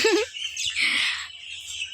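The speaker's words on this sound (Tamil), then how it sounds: "அழகாக குருவிகளோட சவுண்ட்லாம் கேட்குது" Sparrows chirp in quick, high, bright calls, one brief twitter followed by a longer burst of chatter at moderate distance, with a faint low hum underneath.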